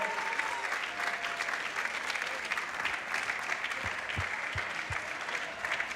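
An audience at an outdoor song contest final applauds the winner, a steady, moderately distant clapping wash that continues throughout, with a few louder thumps near the end.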